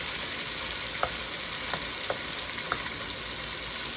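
Chicken leg quarters sauté in a pan with a constant, bright sizzle, punctuated by a few sharp clicks and taps of a utensil against the pan.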